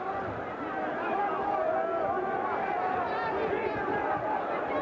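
Loud boxing crowd of several thousand at the Omni arena in Atlanta, a steady roaring hubbub of voices and shouts throughout, with a commentator talking over it.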